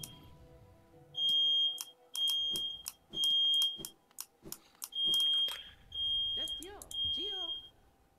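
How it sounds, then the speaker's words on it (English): A smoke-style fire alarm sounds in repeated high electronic beeping bursts, some sustained tones, with a voice heard in between and rising chirping tones near the end. "someone tripped the fire alarm"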